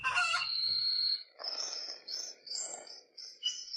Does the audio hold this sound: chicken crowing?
yes